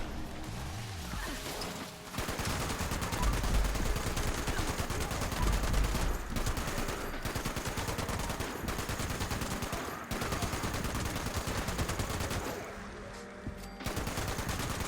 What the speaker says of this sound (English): Oh, that's a rocket launcher.